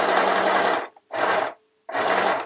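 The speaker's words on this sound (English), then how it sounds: "now we're going to sew these edges together" Domestic sewing machine stitching together the fabric edges of a scrunchie, three quick bursts of whirring motor and needle clatter separated by short pauses, close and clear.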